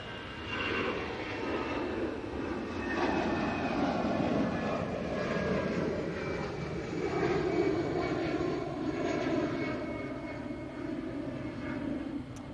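Airliner departing and climbing away from a spotting area near an airport, a steady broad engine roar that holds at a fairly even level for about twelve seconds with no talk over it.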